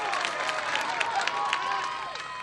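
A soccer crowd at a Charlotte Independence match applauds and murmurs after a defensive recovery, a moderate, spread-out clapping that fades toward the end, with scattered cheers and voices mixed in.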